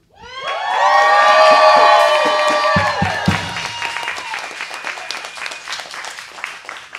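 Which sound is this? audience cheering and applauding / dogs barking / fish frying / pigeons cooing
audience cheering and applauding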